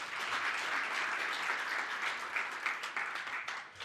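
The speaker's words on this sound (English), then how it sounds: "a big round of applause" A meeting audience of ministers and delegates at an Africa CDC Southern Africa regional session gives a steady round of applause, dense and even with many hands clapping together, filling the room throughout before it starts to thin toward the end.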